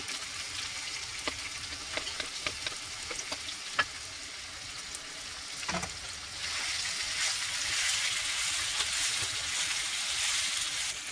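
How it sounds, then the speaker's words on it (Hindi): Tomatoes and mixed vegetables frying in a pan with ginger and garlic, a steady, close sizzle with scattered clinks and stirring scrapes, swelling into a louder, fuller hiss toward the end. "टमाटर मैंने थोड़ा फ्राई कर दिया"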